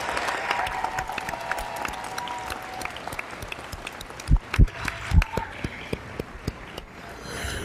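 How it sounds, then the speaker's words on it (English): A graduation audience at the University of Arkansas at Fort Smith applauds faculty and staff, a broad, moderately distant crowd clapping with a few louder nearby claps and thumps standing out over the steady patter. "please give a round of applause and thanks to the faculty and staff of the university"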